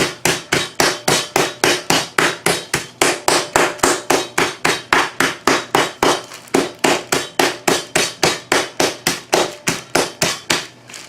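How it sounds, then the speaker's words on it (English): Chicken breast in a Ziploc bag is pounded flat, about three dozen hard, close thuds in a steady, even rhythm of roughly three per second with no pauses. "but you don't want to pound it till there's nothing left,"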